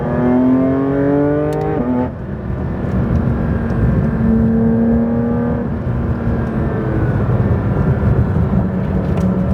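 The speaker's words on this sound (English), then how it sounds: "A 6-cylinder, flat 6, makes that kind of noise." A Porsche 911 GT3 RS flat-six revs hard and loud, with rising and falling engine pitch through gear changes and a brief dip around two seconds, sustained and close throughout with no talking.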